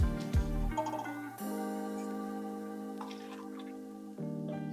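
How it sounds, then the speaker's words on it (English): Bottled water poured into a cup, a close gurgling glug that settles into a sustained, rising-pitched fill tone, broken briefly by bottle glugs before a final splash. "Just pour your water in there."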